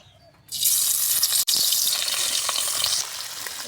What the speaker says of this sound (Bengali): মাছগুলো মাখা হয়ে গেছে, এবার ভেজে নেব।